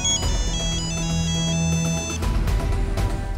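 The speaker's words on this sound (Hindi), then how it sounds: "सत्यवचन हो गया, दिग्विजय की घंटी बज गई" A phone ringtone plays a bright, repeating electronic melody, loud and close, ringing on its own for a few seconds with no talk over it.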